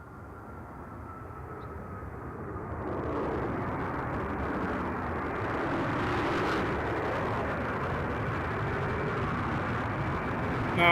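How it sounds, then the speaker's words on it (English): Gulfstream V business jet arriving at Reno airport after a long flight, a rising turbine roar that builds early and then holds as a steady, fairly loud rumble. "Gulfstream 5, coming in from Key West, that's right."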